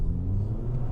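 Renault Twingo RS Cup engine revving, a steady low rumble from inside the car that lifts slightly in pitch, close and fairly loud with no talk.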